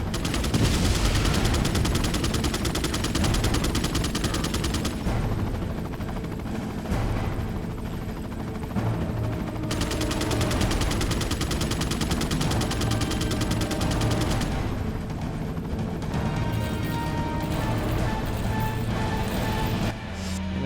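Gunfire in the video game Resident Evil 4: loud, sustained bursts of rapid shots layered over dense game sound, continuing without a break.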